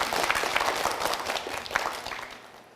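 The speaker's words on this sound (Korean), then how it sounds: "한세진 학생에게도 큰 박수 부탁드립니다" A studio audience at a televised science quiz show gives a brief round of applause for a student contestant, a steady patter of many hands that slowly tapers off.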